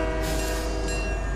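A train rolls past in the Fortnite video game, a loud, steady rumbling roar with a horn-like tonal hum held across the whole short stretch, with no voices.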